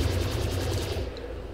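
Sustained automatic gunfire in a shooter video game, a dense continuous burst of shots close and loud throughout, with no talk over it.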